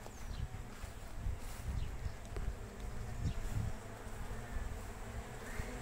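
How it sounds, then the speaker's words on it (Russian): Honeybees buzzing around beehive nucleus colonies outdoors, a continuous faint swarm hum with individual bees droning past the microphone, no talk. "пчелки хорошо носят в пыльцу нектар."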